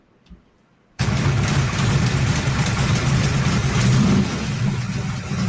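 After a near-silent second, a 1967 Shell Valley Cobra's engine starts and keeps running with a loud, rough, steady low rumble and throaty exhaust noise, close by and with no speech.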